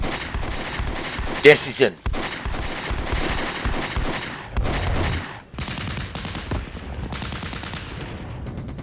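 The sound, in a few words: gunfire in the video game Flashpoint Campaigns: Red Storm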